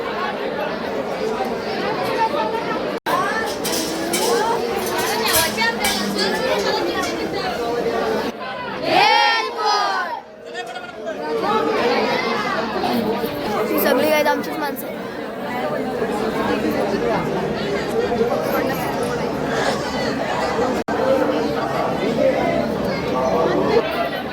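Dense crowd chatter fills a packed queue at the Jejuri temple, many overlapping voices forming a steady loud hubbub that dips briefly midway before surging back.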